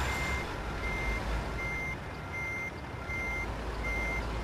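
Steady electronic reversing beeps from a truck in the American Truck Simulator video game repeat at a regular pace over a constant engine rumble.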